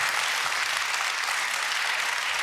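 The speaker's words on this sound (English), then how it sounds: "So that's an applause worth." Studio audience at a late-night TV show applauds in a dense, steady wash of clapping that lasts throughout, close and loud with no clear talk.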